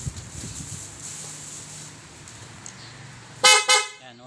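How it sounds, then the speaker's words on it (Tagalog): Loud aftermarket dual contact horn fitted to a Honda ADV 160 scooter sounds two quick, blaring honks near the end, after a stretch of quiet background rustle. "Yung loud horn sir."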